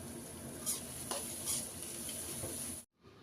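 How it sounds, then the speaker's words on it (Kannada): Cabbage, carrot, capsicum and beans frying in oil for egg fried rice, a continuous close sizzle with a few spatula scrapes, stopping abruptly near the end. "ಈಗ ಇದನ್ನೆಲ್ಲ ಚೆನ್ನಾಗಿ ಫ್ರೈ ಮಾಡ್ಕೊಳ್ಬೇಕು."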